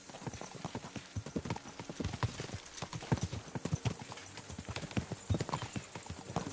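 Horse hooves clip-clop steadily along a quiet road in the video game Kingdom Come: Deliverance II, a loud, regular trotting rhythm of sharp hoof strikes running throughout with no talk.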